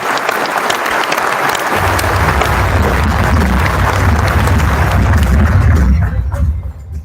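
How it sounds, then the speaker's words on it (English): A keynote audience at a tech conference in Las Vegas breaks into loud, sustained applause for a speaker, a dense wash of clapping that swells and then fades toward the end, with some crowd voices mixed in. "give him a round of applause."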